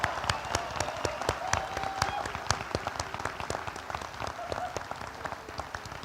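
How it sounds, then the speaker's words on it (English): A crowd applauds the graduating class at the 2025 Western Nebraska Community College commencement, a dense, even patter of many hands clapping that carries steadily throughout with a faint voice underneath. "You may applaud them."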